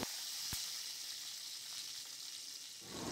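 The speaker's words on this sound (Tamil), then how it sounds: "அதுக்கு எண்ணெய் ஊற்றி காயட்டோன்னு வரமிளகா கிள்ளி போட்டுக்கலாம்" Dried red chilies, peanuts and cumin seeds sizzle in hot oil in a pan, a steady close hiss with one sharp tick early on and no talking.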